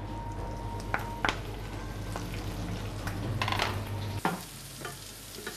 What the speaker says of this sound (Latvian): Sirs tiek cepts uz palielas uguns, lai tas ātrāk paliek brūns un tik ļoti nekūst.